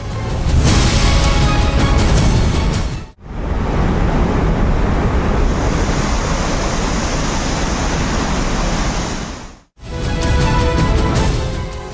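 Water rushes through the opened gates of the Narmada dam in a continuous loud roar that fills the scene, broken by two brief cuts, with no voices.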